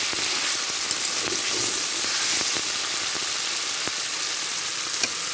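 Spice masala frying in oil for broiler chicken, a continuous close bubbling sizzle with occasional sharp spits and pops throughout.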